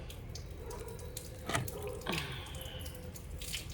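Water runs steadily from a kitchen tap while a cooking pot is cleaned, with a couple of clinks and splashes as the pot is handled under the stream.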